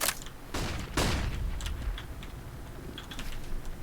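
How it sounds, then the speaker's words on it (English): In the CS:GO video game, a flashbang grenade goes off in sharp, loud bursts close together at the start, followed by scattered clicks and faint game noise. "Throwing flashbang"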